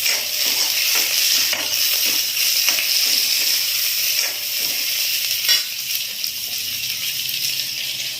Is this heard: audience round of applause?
no